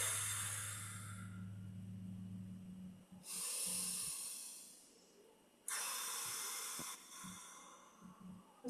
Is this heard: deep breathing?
yes